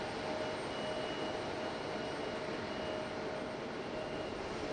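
A United Airlines jet at Raleigh-Durham airport gives a faint, distant, steady roar with a thin high whine running through it.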